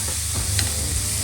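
Spice powders fry in hot oil in a pan for a Karnataka-style baingan bharta, giving a steady close sizzle with a light stir partway through.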